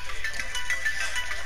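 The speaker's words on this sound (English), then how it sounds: "Her phone's going off." A phone ringing in the video game Outlast Whistleblower, a short electronic ringtone warbling steadily at moderate volume over a faint background hum.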